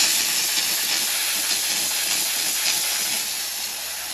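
A 1700 watt garment steamer releasing a steady, loud hiss of steam that runs continuously and tapers slightly toward the end, with no voices over it.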